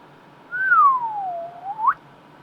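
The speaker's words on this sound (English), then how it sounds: "I didn't mean to whistle" A single clear human whistle, close and loud, gliding down in pitch and then flicking sharply upward at the end, lasting under two seconds in a quiet room.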